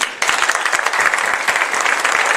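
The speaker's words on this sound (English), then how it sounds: "Big round of applause for him." An audience gives a volunteer a big round of applause during a stage show, a sudden burst of many hands clapping that stays steady and loud throughout.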